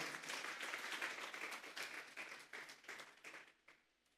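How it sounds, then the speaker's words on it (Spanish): A church congregation claps together during a Spanish-language sermon, dense applause that starts full and gradually thins and fades over a few seconds, heard at a moderate distance. "Vamos a darle una ofrenda de palmas a Dios en esta hora"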